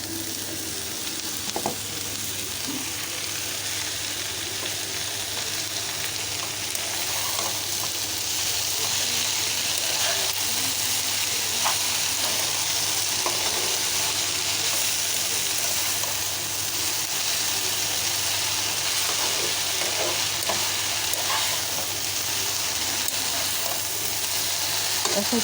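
Jute leaves frying in a pan with coconut make a constant close sizzle, with intermittent spatula scrapes and stirring clicks over a low steady hum.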